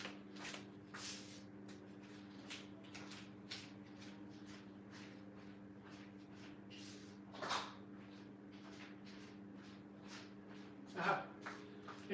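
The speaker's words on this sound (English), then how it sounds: "Our lizard's knocking." A bearded dragon knocks inside its enclosure in a home kitchen, giving a string of faint, fairly regular taps over a steady background hum, with a couple of louder knocks near the middle and the end.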